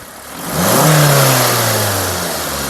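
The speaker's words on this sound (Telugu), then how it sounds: "ఇంజన్ యొక్క నాయిస్ చాలా సైలెంట్గా అయితే ఉందండి" A 2022 Maruti Suzuki Swift Dzire ZXI petrol engine revs up sharply nearby, holds a higher pitch, then slowly winds back down toward idle.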